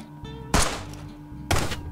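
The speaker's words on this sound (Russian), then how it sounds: "Димон, сейчас попробую одним выстрелом отстрелить ей руку." Two sharp gunshots in the Brick Rigs video game strike an animatronic. They land about a second apart, each a loud, punchy burst that tails off quickly over a quiet electronic hum.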